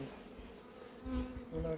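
Honeybees from a swarm gathered in a cardboard box at Varennes-sur-Seine hum continuously up close, a soft, steady drone that swells slightly toward the end.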